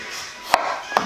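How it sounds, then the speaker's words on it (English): Two sharp knife chops through a cucumber on a cutting board, spaced about half a second apart, close and crisp with no talking. "Now for the cucumber. Well, I cut both ends, obviously, okay?"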